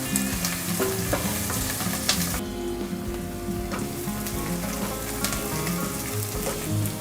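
A prawn biryani mixture with coriander and mint is stirred in a frying pan, giving a loud, continuous frying sizzle with scraping and clinking stir strokes throughout, close and without speech.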